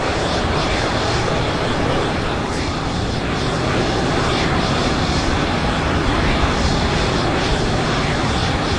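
A Eurofighter Typhoon's jet engine roars loud and constant in Microsoft Flight Simulator 2020, a dense unbroken roar with no talking over it.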